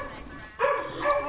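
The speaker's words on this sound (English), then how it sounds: "Dog yelling in the background." A dog barks in the background, a couple of quick muffled barks following a low hum.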